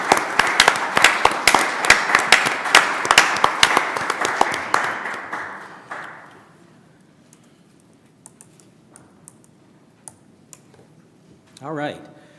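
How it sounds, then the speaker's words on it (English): A council-chamber audience applauds for about six seconds, a dense, close patter of many hands that tapers off into near silence, followed later by a brief faint voice. "let's give our winners and those who received proclamations and everything else a round of applause"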